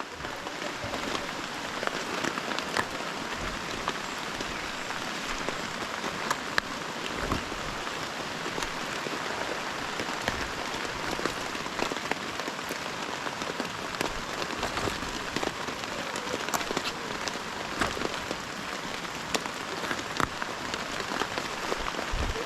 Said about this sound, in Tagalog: Nung dumating naman po ang ulan,